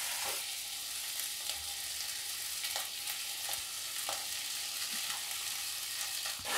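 Boiled-potato samosa filling with spices and garam masala frying in a pan, a continuous loud sizzle with regular spatula scrapes and stirs close up and no talking.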